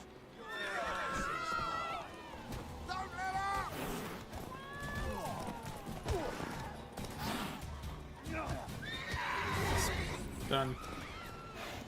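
A horse in the video game The Witcher Wild Hunt whinnies and gallops, with busy hoofbeats and layered game sounds, close and moderately loud, mixed with voices speaking.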